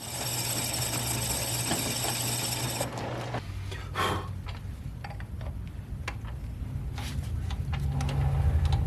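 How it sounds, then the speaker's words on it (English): A lathe machining a fabricated manifold part for a 7M engine gives off a steady tonal hum that shifts partway through into scraping, ticking cuts with scattered sharp clicks, close and continuous. "Why do it by hand when you can do it by lathe?"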